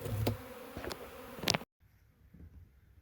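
A caught honeybee swarm buzzing inside a swarm trap, a dense close hum with brief louder flyby whines, cutting off abruptly partway through to a much quieter, fainter buzz.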